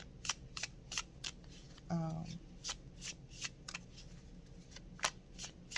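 Tarot cards shuffled close up in quick, crisp riffles repeated at regular intervals, with a brief voice sound partway through.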